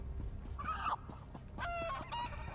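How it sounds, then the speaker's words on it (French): Chickens clucking in The Elder Scrolls Online video game, a few close clucks and squawks, one longer rising call near the end, over a low ambient game background. "Oh, les poules"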